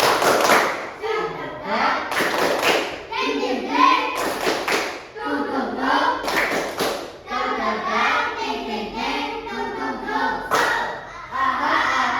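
Fourth-grade children in a classroom clap together in quick rhythmic bursts, a group cheer pattern repeated several times, with young voices chanting and calling out between and over the claps.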